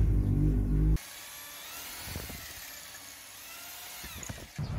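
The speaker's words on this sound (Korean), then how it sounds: "구멍 좀 넓혀줄 겁니다." Power drill enlarging the hole in a washer for a broken injector clamp bolt repair: a loud whirring burst at first, then quieter grinding with a few brief surges as the bit works the metal.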